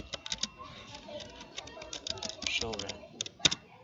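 Quick bursts of clicks from a computer keyboard as a command is typed at a network command-line interface, quiet and close, with a voice speaking briefly.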